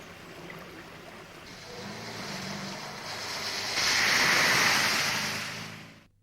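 A very small stream, the old original river emerging from a marsh at a ford, rushes with a steady broadband wash that gradually swells louder before cutting off abruptly at the end.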